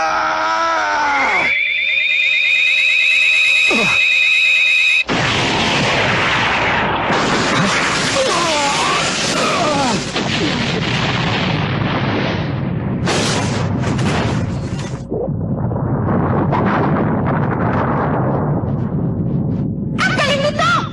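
A powerful anime explosion erupts as a large spirit ball breaks through a Spirit Shield, after a high whining charge-up. A long, loud roaring blast rumbles on with crackling bursts, mixed with screams and voices.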